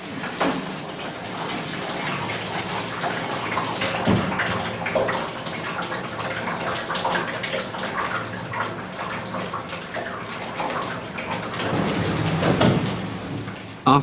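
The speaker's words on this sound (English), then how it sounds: "With the help of boiling water, the rest of the wax is washed out." Boiling water poured over pressed beeswax and cloth in a traditional apiary wax press, a steady loud splashing, rushing wash that runs continuously throughout with no talking.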